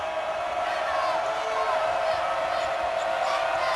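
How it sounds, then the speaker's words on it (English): A high school girls' basketball crowd at a Class 6A quarterfinal cheers and shouts to pump up the Raven team, a steady roar of many voices filling the gym throughout. "Raven crowd trying to pump up their team"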